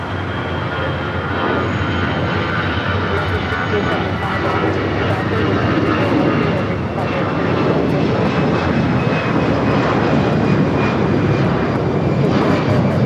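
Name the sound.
Airbus A321 jet departing for Dallas Fort Worth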